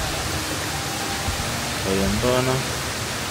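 Taytay Falls at the foot of Mount Banahaw pours with a steady, broadband rushing roar that fills the whole clip, while someone speaks briefly over it.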